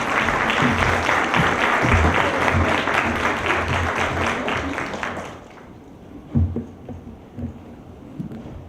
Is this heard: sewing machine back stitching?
no